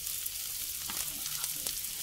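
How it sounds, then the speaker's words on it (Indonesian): Bird's eye chilies sautéing in a pan give a steady, soft hiss of frying with a few faint stirring scrapes, low in level and unbroken across the short stretch. "Cabai rawitnya tumis hingga layu juga."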